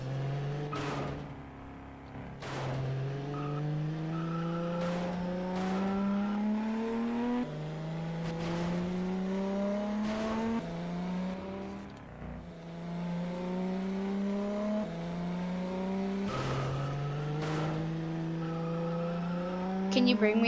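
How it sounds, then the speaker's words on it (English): A car drifts in a video game, its engine revving in repeated rising sweeps that are broken by sharp clicks and squeals, steady and close, with a faint voice underneath. "Now see how good it's at drifting?"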